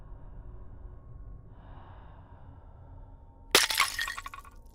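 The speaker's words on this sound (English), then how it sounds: "It was a pot, placed close to my feet, shattering on impact as it kissed the floor" A pot falls and shatters on a floor in a sudden sharp crash, followed by a short scatter of clinking fragments, loud and close after a quiet stretch with faint breathing.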